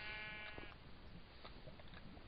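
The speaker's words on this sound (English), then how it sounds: "Oh, look at the little sheep close to the lava." A sheep in the Minecraft video game gives a single bleat near lava, soft and clear over a low background hiss, followed by faint game sounds.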